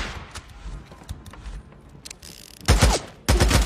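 Gunfire in the Days Gone video game, with sparse mechanical clicks and faint sounds giving way to two loud bursts of shots near the end.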